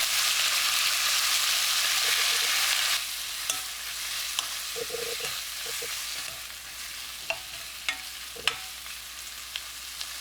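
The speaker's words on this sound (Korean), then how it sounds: "애호박 넣고 1분 볶아줍니다" Zucchini stir-fried with green onion and garlic in a pan over medium heat gives a steady, close sizzle, punctuated by occasional soft clicks and scrapes of a utensil stirring.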